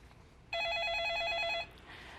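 A telephone rings with one steady electronic trill for about a second, loud and close, and then stops as a live call from a viewer on a Korean stock-market advice broadcast comes in. Faint room tone is audible before and after the ring.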